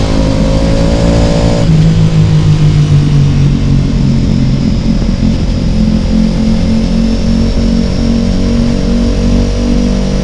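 Ducati Pikes Peak motorcycle accelerating hard from 0 to 60 mph, a loud, close engine roar climbing in pitch through gear changes with a shift near two seconds, continuous throughout with no talking.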